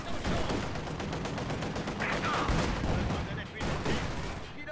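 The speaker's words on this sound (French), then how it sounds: "On reçoit des tirs d'armes légères!" Small arms fire crackles in the World War II strategy game Company of Heroes 2, with dense overlapping rifle and machine-gun bursts rattling continuously at a moderate distance in a busy battle mix.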